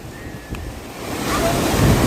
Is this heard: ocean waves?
yes